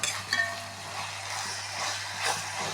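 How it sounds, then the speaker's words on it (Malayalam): Chicken parts sautéing in an open pan for a home curry, with a steady broad sizzle throughout and a few soft utensil clinks near the start and end. "ഇത് വഴറ്റി വരട്ടെ"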